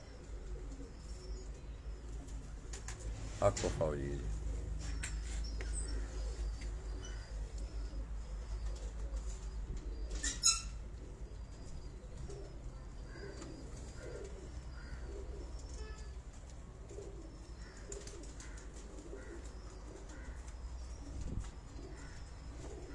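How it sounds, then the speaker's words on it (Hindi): Sialkoti pigeons of the Batera breed coo softly in a rooftop loft, low murmuring calls repeating under steady background noise, with a couple of sharp louder knocks and a brief spoken phrase. "ये बटेरा नस्ल का ये कबूतर मैं आपको दिखा रहा हूं।"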